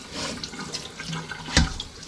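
Tap water runs and splashes as a colander is rinsed out under the faucet, a steady close wash broken by one sharp knock partway through.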